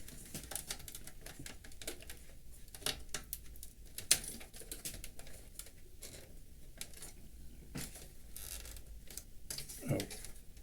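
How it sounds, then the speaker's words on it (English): Original Xbox disc drive with no power fault clacking and ticking in rapid, irregular mechanical bursts, close and fairly quiet, repeating throughout with no talk over it. "I'm not sure if you heard me over the clack of that drive."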